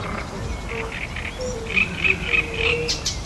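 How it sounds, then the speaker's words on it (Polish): Frogs croaking in a park pond in Wrocław during the breeding season, a series of bright repeated croaks and trills at moderate distance over a soft background hum, with insect chirps mixed in. "Kąkają żaby, godują tutaj w tym parku."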